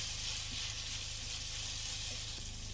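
Sausage browns in a pan for biscuits and sausage gravy, a steady close sizzle and hiss of frying fat with faint scrapes as it is stirred, no talking over it.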